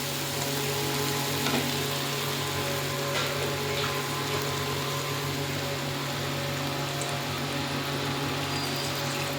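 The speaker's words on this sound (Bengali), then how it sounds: "এবার একটু জল দেবো।" Water splashed into a hot pan of Bengali spiced fish curry with turmeric and salt sets off a steady, dense sizzle that holds evenly throughout, loud and close with no talking.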